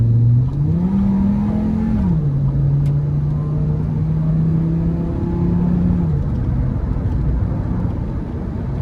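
A 2005 GMC Canyon pickup's five-cylinder engine pulls hard at near full throttle, its steady drone rising in pitch, dropping briefly at a shift, then holding and climbing again under road and wind noise from inside the cab.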